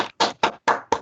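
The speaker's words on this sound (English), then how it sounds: "If everybody wants to come off mute and give Darren a round of applause." A few separate claps from someone in an online meeting, four or five sharp bursts in an uneven rhythm, close to the microphone, with no talking.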